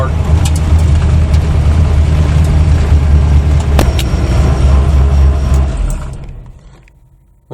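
A Chevy drag truck with a 406 small-block V8 rumbles loudly and steadily with a deep low drone, then fades away and drops to near silence at the end.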